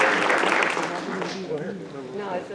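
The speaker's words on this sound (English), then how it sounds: "So give them a round of applause." Audience applause at a university English department convocation, a steady wash of clapping from a room full of people that slowly thins out, with a voice talking over it.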